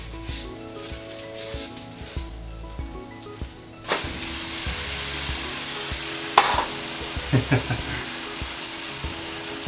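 A vegan pancake fries in a pan with a steady sizzle, broken near the middle by a louder scrape and clatter as it is flipped, followed by a few sharp knocks of the utensil against the pan.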